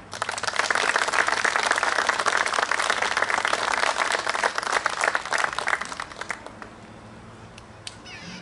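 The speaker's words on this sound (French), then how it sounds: "vous demande une nouvelle fois de les applaudir" Audience applause at the inauguration of a water source in Marguerittes, France: dense, steady clapping from a crowd for about six seconds, then thinning out into a few scattered claps and quiet.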